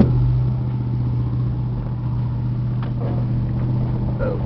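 A Chevy 5.7 V8 with a three-speed transmission idles steadily in a Class C motorhome, a close, even low rumble with a constant hum and a slight rise at the start.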